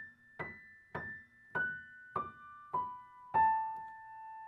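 Piano playing the opening of a waltz coda at a slow 50 bpm: six separate struck notes or chords in an even, unhurried rhythm, each ringing and decaying, played alone with no talking.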